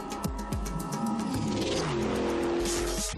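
Noble M600 supercar engine accelerating hard, loud and close, with rapid rising revs, gear changes and a roaring climb that swells to a harsh peak.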